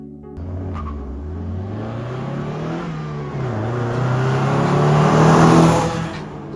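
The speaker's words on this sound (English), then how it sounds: "So I'm going to head out in the Mazda first and see what it's like." Mazda MX5 NA roadster driving and accelerating, its engine note climbing through revs, dropping at a gear change, then building louder toward the end before easing off, heard steadily from close by.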